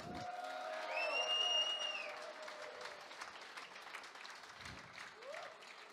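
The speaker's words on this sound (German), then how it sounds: "mal einen ganz, ganz fetten Applaus" A crowd of handball fans applauds their team, a steady wash of clapping with light cheering that swells early and then holds at a moderate level, joined by a faint whistle-like tone near the start.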